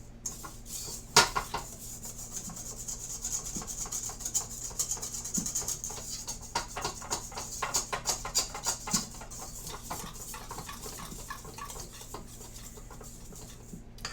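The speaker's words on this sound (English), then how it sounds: "I'm going in and trying to take the dry ingredients and rub that oil off" Dry bath bomb ingredients rubbed against the oily sides of a mixing bowl, giving a close, steady gritty scratching and patter that grows busier in the middle, with occasional sharper knocks.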